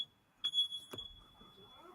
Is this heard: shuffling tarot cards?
no